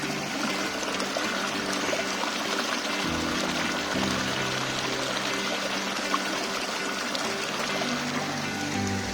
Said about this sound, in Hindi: तो बीच बीच में ऐसे आपको वाटर स्ट्रीम्स देखने मिलते हैं